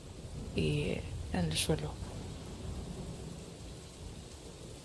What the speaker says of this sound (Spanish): la tormenta que se escucha a lo lejos